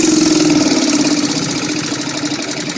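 A new engine-driven welder runs loud and unmuffled nearby, its small engine chugging in a fast steady throb with a strong low hum.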